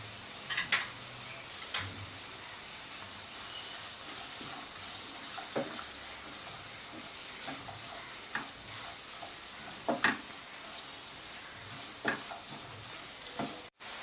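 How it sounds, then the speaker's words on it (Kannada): Red chilli paste frying in hot oil for vegetable fried rice, a steady close sizzle with occasional spoon scrapes and stirring clatters in a home kitchen, no voices. "ರೆಡ್ ಚಿಲ್ಲಿ ಪೇಸ್ಟ್ ಹಾಕ್ತಾ ಇದ್ದೀನಿ"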